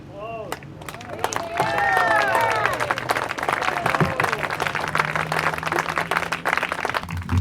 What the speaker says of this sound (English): another round of applause for Wes McKinley